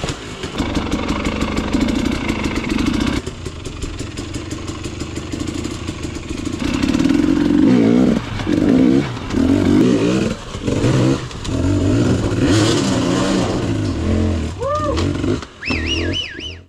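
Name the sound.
dirt bike riding on a single track expert trail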